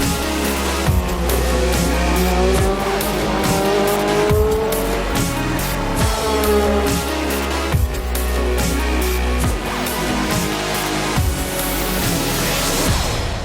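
A DTM race car at full throttle on the Budapest circuit during a 2014 race, its engine howling through rising sweeps cut by sharp upshifts, with tire squeal mixed in, close and loud.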